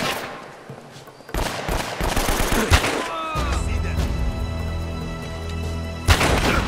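Gunfire in the Uncharted Drowned City level, with loud bursts of shots and booming blasts, then a rumbling background after the firing stops, all close and harsh.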